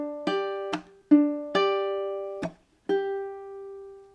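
Ukulele fingerpicked in the pattern of a song, with six clear plucked notes and chords, a percussive pop adding accents, ringing and decaying between strikes in a steady, unhurried rhythm, played alone and close.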